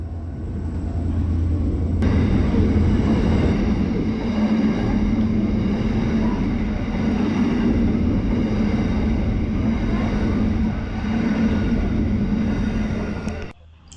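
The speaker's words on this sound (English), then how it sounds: "An empty coal train, to be precise, heading probably up to the Bowen Basin coal plants." An empty freight coal train rolls through a station, a continuous heavy rumble with clattering wagons and a steady metallic ringing tone, loud and close, holding for most of the stretch before cutting off near the end.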